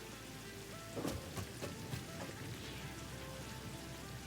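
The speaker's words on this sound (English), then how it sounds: "Still just wild about this rain." Steady rain falls in the video game Satisfactory, a continuous soft hiss with a few faint thumps of distant thunder early on, heard alone without talking.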